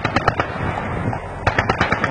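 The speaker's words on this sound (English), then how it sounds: "You're shooting at us, you know that, right?" Gunfire crackles at a Marine tactical warfare training center, a loud, close series of sharp reports in an uneven rhythm, clustered at the start and again near the end of the short stretch.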